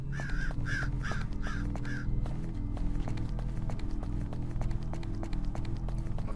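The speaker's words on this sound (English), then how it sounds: "Fucking bird, honestly." A bird in a maze video game caws five times in quick succession over game music, followed by a steady rhythmic run of footsteps that carries on to the end.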